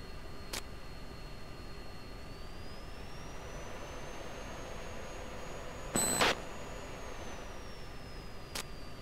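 An A-10 jet landing in a flight video game, its engine giving a steady, even whine and roar throughout, with the pitch rising slightly midway and brief sharp clicks.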